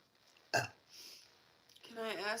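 A short, abrupt burp from a person, close and fairly loud, followed by people talking casually.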